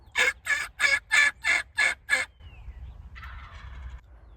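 A wild turkey tom gobbles in answer to a hunter's call, a rapid run of seven loud, rattling pulses, followed by quieter outdoor ambience and a faint distant bird note.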